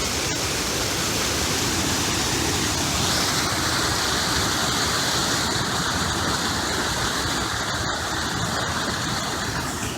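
Water pouring steadily over an old mill dam, a loud, continuous rushing roar with no breaks, close by and unbroken by voices.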